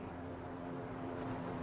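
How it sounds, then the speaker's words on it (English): Steady engine drone of an airplane flying overhead in the survival game 7 Days to Die, a continuous low hum with a high whine on top, no speech. "Hello there, plane."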